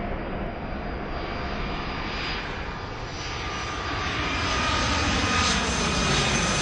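An airliner's jet engines roar during takeoff in the Airport Madness 4 game, a steady broadband rumble that grows louder toward the end, with no voices.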